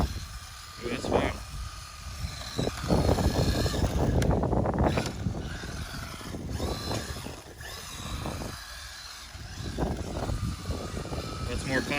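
A Ruko 1601pro 4WD RC rally and drift car drives erratically, its small electric motor whining and surging in bursts against scuffing and clattering. Several people talk and react over it throughout.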